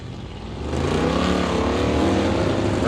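Drag racing cars, a 1946 yellow Ford and a 1958 Oldsmobile, roar at a drag strip, the engine noise swelling loudly after a brief quieter start and holding a steady, throaty drone.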